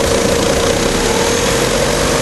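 A GM Vectra 2.0L 8V engine runs loud and close, a dense steady hum with a faint knocking vibration underneath and no voices.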